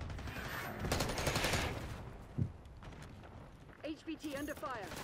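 Bursts of video game gunfire rattling at moderate volume, followed by brief in-game radio chatter and a voice speaking near the end.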